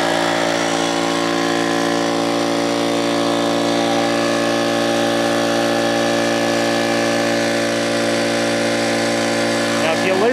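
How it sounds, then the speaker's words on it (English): An old air compressor runs loud and steady the whole time, a dense mechanical drone with rattling clatter layered in, close to the listener and without pause. "Now if you listen, you'll hear some clanking and clattering and all kinds of good shit."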